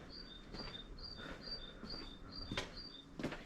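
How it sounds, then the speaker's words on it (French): Small birds chirp in a quick repeating pattern of high thin notes near a hilltop village walkway in Hautpoul, faint against soft outdoor background with a couple of sharper clicks. "Avec les petits oiseaux."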